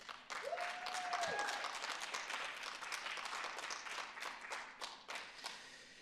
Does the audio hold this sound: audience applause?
yes